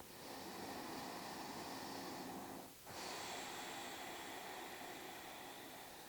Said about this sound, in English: breathe in and out through your nostrils